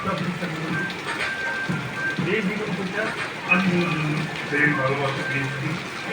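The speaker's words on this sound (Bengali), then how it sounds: "বৃষ্টির কারণে এখন বের হওয়া যাচ্ছে না, ভিডিও বানাতে আইসা আমরা সব আটকা পড়েছি, সেরকম বৃষ্টি হচ্ছে।" Heavy rain pelts down in a steady patter on surfaces close by, continuing under people talking over it.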